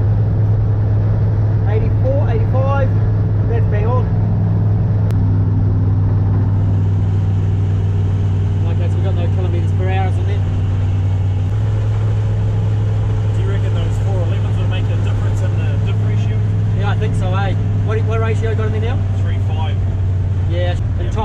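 A 1947 Ford fitted with a Toyota 1UZ VVTi V8 cruises at about 80 km/h, its engine giving a steady, low, close drone under continuous cabin conversation.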